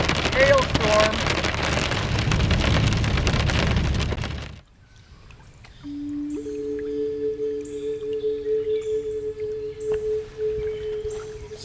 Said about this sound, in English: we're in a hailstorm